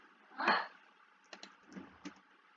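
Computer keyboard typing in a few separate bursts: one louder cluster of keystrokes followed by a couple of lighter, scattered clicks, fairly close and quiet, with no talking.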